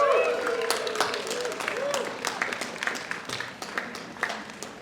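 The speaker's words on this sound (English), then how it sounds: "To your loved ones, let's give them a real big round of applause" At a medical school Match Day ceremony, an audience claps for graduates' loved ones, a broad wash of applause with scattered cheers and crowd noise under a voice over a loudspeaker.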